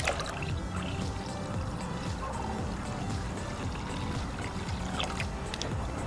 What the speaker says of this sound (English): getting the water now and diluting it 50-50